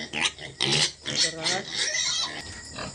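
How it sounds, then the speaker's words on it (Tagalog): Pigs on a pig farm at feeding time grunt and oink in a rapid series of close, loud bursts, several animals calling over one another. "Dara ang big pig. Dako nga baboy."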